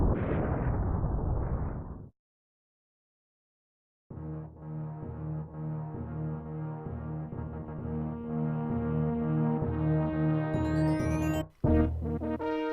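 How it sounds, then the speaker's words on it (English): A planet explodes in Super Metroid, the SNES game: a loud rumbling blast runs for two seconds and cuts to silence, then a sustained booming drone with tonal layers swells, ending in a sharp burst near the close. "We have the obligational run back to the ship as the entire planet will explode."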